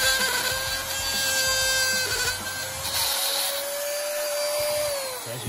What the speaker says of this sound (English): I'm gonna try to drill this hole a lot bigger so that that ball will fit into it.